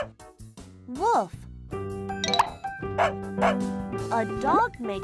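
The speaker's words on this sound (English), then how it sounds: "A dog makes a woof sound." A dog gives a few short woofing barks, close and clear, interleaved with spoken words and light jingly tones in a children's animal-sounds lesson.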